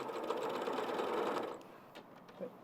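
A sewing machine stitches along a drawn curved line, its quick, even whirr running close and steady for about a second and a half, then cutting off and leaving a few faint clicks and handling noises.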